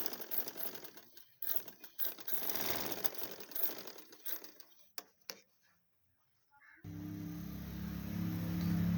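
Sewing machine stitching the shoulder seam of a gents suit, running in bursts of whirring mechanical chatter with brief clicks, then stopping before a steady low motor hum takes over.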